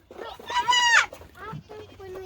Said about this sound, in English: we need to feed the sheep